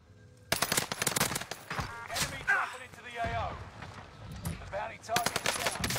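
Rapid automatic gunfire from a battle royale video game endgame firefight, loud bursts and sustained volleys throughout, with a player's voice speaking over the shooting.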